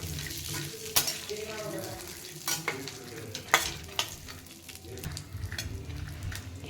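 Cashew pieces roast in ghee in a pan, giving a soft steady sizzle under scraping spoon strokes and several sharper clinks against the metal.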